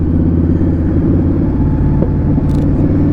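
An Indian Scout Bobber motorcycle engine rumbles deep and loud in an enclosed space, a continuous close throbbing drone with no talking.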